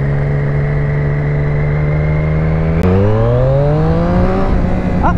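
A 2020 Triumph Street Triple S motorcycle engine revs strongly, its steady drone rising in pitch, briefly dropping at a gear change around the middle, then climbing again, loud and close with no voices.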